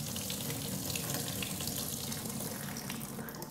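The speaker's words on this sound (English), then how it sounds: "we're gonna dump the water out into the sink" Water is poured out of a Cuisinart large salad spinner into a sink, a steady rushing splash that stays loud and continuous throughout with no talking.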